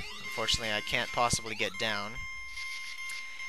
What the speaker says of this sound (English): that beeping sound you hear is the time limit that this game also has